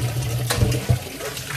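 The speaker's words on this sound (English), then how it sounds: "Let's go ahead and wash this bowl." Kitchen tap water runs steadily while a bowl is washed in a sink, a close, continuous splashing hiss with a few louder knocks and splashes.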